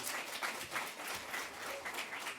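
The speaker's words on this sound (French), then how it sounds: "On peut l'applaudir." Audience applause at a conference on freelancing, soft and slightly distant clapping from a modest crowd, steady and fairly even for a couple of seconds.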